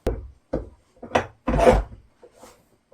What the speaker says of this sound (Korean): 등판 하단에 이 부분을 끼우고 앞에서 보여드렸던 육각 렌치와 나사를 이용해서 체결을 하는 겁니다